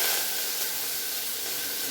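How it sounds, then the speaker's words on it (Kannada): Cumin seeds tempering in hot oil, a dense steady hiss of sizzling at close range, continuous and unbroken, with no voices. "ನೋಡಿ ಜೀರಿಗೆ ಹಾಕ್ತೀನಿ ಒಗ್ಗರಣೆಗೆ."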